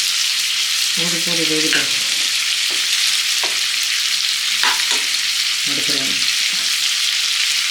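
Prawns frying in a kadai, a loud, constant bright sizzle throughout while a couple of voices speak briefly over it.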